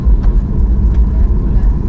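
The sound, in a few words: airplane taxiing before takeoff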